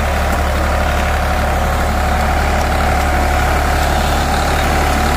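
A New Holland 3630 Plus 4x4 tractor pulling a sugarcane planter runs with a steady, loud, low diesel drone that holds unbroken throughout, with no speech over it.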